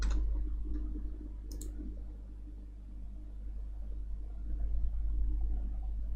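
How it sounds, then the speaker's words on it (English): A couple of sharp computer mouse clicks cut through a quiet room over a low steady hum, with a short pause while a keyframe is dragged along an editing timeline. "I can do this by press my left click and drag to frame 20"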